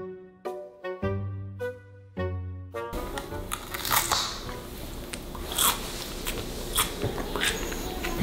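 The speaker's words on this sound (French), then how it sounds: "c'est formidable de déguster un bon gros poivron" Crisp crunching bites into a big raw bell pepper, followed by steady close, wet chewing and crunching that continues throughout after a few brief music-like tones at the start.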